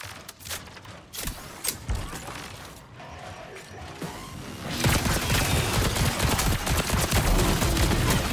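Rapid automatic gunfire from a magazine being emptied in the video game Marathon: a few sharp shots and mechanical clicks, then a dense, loud, continuous burst of fire that lasts to the end.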